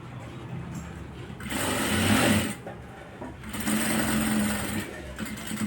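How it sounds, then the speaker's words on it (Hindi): Sewing machine stitching a coat collar, running in two steady bursts of mechanical whirring with a short quieter pause between them. "यहाँ पे सिलाई पक्की कर देंगे और यहीं से उतार देंगे।"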